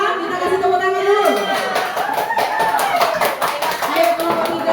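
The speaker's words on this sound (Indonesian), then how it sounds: "Kita kasih tepuk tangan dulu" Clapping from a group of teachers at a school workshop as the next group is called forward, scattered claps mixed with lively chatter and voices talking over it.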